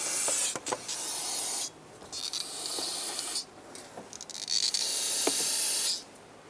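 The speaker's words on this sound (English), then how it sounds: "spray a bunch of brake parts cleaner to get rid of all of the old brake fluid" Several bursts of brake parts cleaner hissing from an aerosol can onto a Mazda 6 master cylinder area, each lasting a second or two with short pauses between, close and fairly loud.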